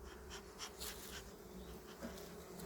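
Bees buzz steadily around an opened, healthy hive colony, a dense, faint, continuous hum with individual insects flying close by now and then, no voices.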